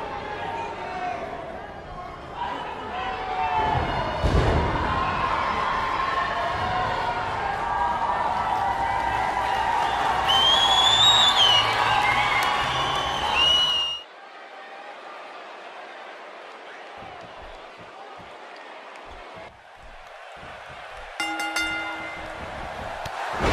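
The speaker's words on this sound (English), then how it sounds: "it sounds to me like the crowd is more than ready for this one" A wrestling arena crowd cheers and applauds in a loud, continuous roar that cuts off abruptly partway through. A quieter stretch follows, with announcers talking over it.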